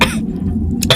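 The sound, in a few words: cough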